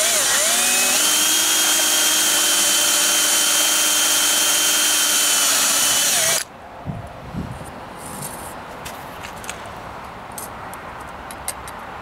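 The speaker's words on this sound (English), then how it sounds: "And away we drill." A power drill whines steadily and loudly for several seconds as it drills into wood, then stops abruptly, followed by quieter handling clatter.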